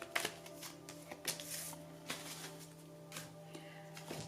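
A deck of oracle cards is shuffled close up, with a series of soft riffling and slapping bursts in an uneven rhythm, fairly quiet.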